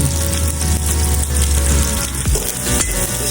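Store-bought fried chicken dropped into a hot frying pan with onions, giving a steady, loud sizzle and crackle of oil throughout, with no talking.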